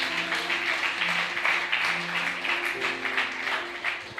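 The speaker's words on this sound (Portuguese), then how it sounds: "dá uma salva de palmas ao nosso Deus" A church congregation gives a round of applause during a sermon, steady moderate clapping over a sustained background of keyboard-like musical tones.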